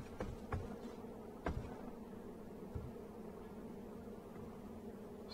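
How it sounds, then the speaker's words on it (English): Bees buzz steadily in the video game H1Z1, a constant close drone with a few brief louder thumps and no talking. "Can hear the bees."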